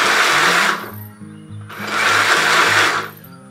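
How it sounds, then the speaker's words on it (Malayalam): An electric mixer grinder whips semolina and egg cake batter in two loud, close bursts of whirring motor noise, with a quieter pause between them. "എന്നിട്ട് ബാക്കിയും കൂടെ ഇട്ടിട്ട് ഒന്നോടെ ഒന്ന് വിപ്പ് ചെയ്യും."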